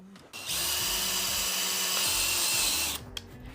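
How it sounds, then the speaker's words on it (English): A power drill bores through wood for a pegboard market stand, running steadily for about two and a half seconds with a loud, sustained whine before cutting off. "placing my drill bit in the hole and then starting it"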